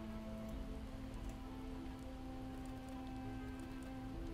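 Steady rainfall in the survival game Project Zomboid, a continuous even hiss of drops on surfaces with a low hum beneath, constant and moderately loud with no speech over it.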